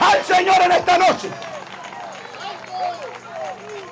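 A crowd claps in praise at an outdoor evangelistic gathering in a plaza in Santiago, Chile: a burst of loud, fast clapping for about a second, then fading into murmuring crowd babble and speech.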